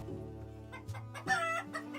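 Chickens cluck in short bursts close by, with a rooster-like call rising near the middle against a low steady hum, inside a warm cow shed on a farm in Yakutia during extreme winter cold.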